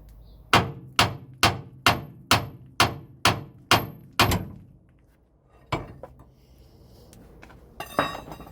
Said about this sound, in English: whack it with a hammer and see what happens